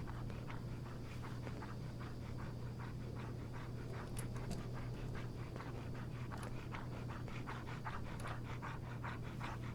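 A dog pants steadily in Fallout 4, with a rapid, even rhythm of short breaths continuing throughout over a low constant hum.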